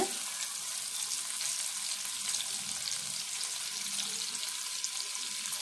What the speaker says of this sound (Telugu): ఇప్పుడు ఇవన్నీ వేగినాయి కదా, ఉల్లిపాయ వేసుకుందాము